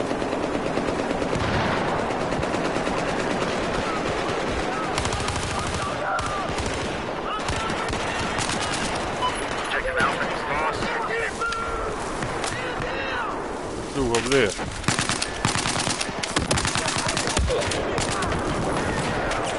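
Near-constant gunfire in a video game, dense rapid automatic bursts and single shots layered loudly throughout, with a voice speaking faintly underneath.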